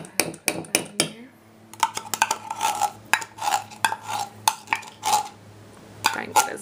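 Metal utensil scraping and tapping inside a nearly empty tomato paste can while making ketchup, a run of short, close, irregular clicks and scrapes with brief pauses between them.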